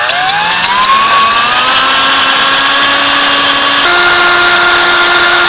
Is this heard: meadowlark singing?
no